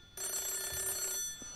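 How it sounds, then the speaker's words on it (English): An old rotary telephone rings in a horror video game set in 1980s Japan, a loud metallic bell burst lasting about a second before cutting off into a quiet room. "that's an old rotary phone"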